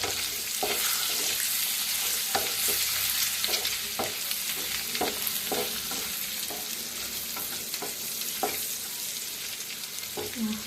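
Eggs frying in a red chilli masala in a pan, a constant soft sizzle with regular spatula scrapes and stirs every second or so, close but fairly quiet, no talking.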